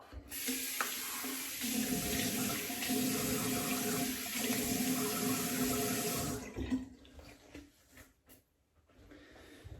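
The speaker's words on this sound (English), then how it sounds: "Let me rinse off." Tap water runs steadily into a sink while someone rinses off, a close continuous splashing rush that lasts about six seconds before cutting off, followed by a few faint drips and clatters.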